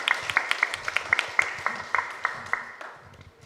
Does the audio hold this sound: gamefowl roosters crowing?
no